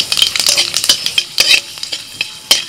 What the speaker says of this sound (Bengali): কড়াইতে অল্প করে সরষের তেল দিয়ে ওর মধ্যে দিয়ে দিচ্ছি 2টো শুকনো লঙ্কা,